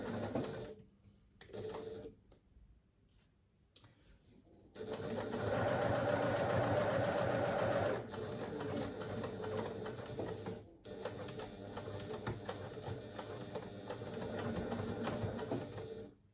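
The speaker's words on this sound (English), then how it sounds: "I'm going to be sewing as far as there. Back stitch at the start." A sewing machine stitches a seam on a fabric pouch, starting with short back-stitch bursts and then running in steady longer spells of rapid mechanical whirring and clatter, close and fairly loud.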